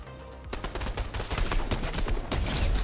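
Gunfire in the video game Fortnite Battle Royale: a rapid, dense burst of shots, slightly distant at first and then louder and continuous.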